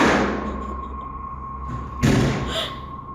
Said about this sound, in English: the door from the other room has slammed shut again